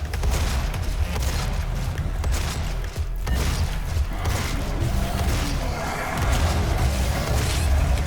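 Explosions in the first-person shooter Doom 2016: heavy booms and crashes inside dense, continuous combat noise with mechanical clatter, loud and close throughout.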